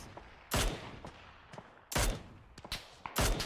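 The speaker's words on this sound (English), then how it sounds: "Can't see anything because they're shooting the fucking ridge." Bursts of gunfire in an online shooter video game: three heavy loud volleys with several lighter single shots between them, close and sharp, with no talk.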